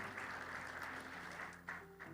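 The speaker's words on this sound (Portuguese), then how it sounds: "Quem pode dar um aplauso ao Senhor?" A church congregation applauding during a sermon, a steady wash of clapping that carries on for a couple of seconds, with faint speech beneath it.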